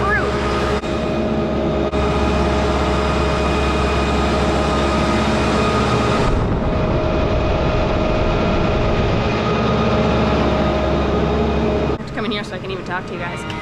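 A 25 kW Generac generator runs with a loud, steady low drone and a rumbling hum that holds unbroken from start to finish, with a voice speaking over it.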